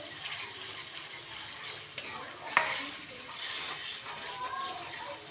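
Yogurt being quickly stirred into a kebab mixture in a pan, giving soft, continuous wet scraping and sizzling with a couple of brief sharp clinks from the spoon.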